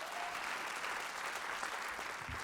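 A comedy club audience keeps up a broad, even round of applause, moderately distant and continuous with no pauses.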